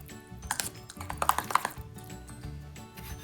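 Knife chopping ingredients on a cutting board while making tzatziki in a Mediterranean kitchen: a quick, close burst of light, uneven taps that clusters for about a second and then stops, quiet overall.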